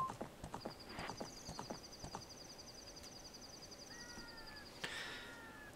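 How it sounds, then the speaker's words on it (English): Horse hooves clip-clop in a quick galloping rhythm in the Zelda: Ocarina of Time video game, with a sustained synthetic tone and a short whinny-like cry near the end, no talking. "if you run dead-on fences, the horsey will jump"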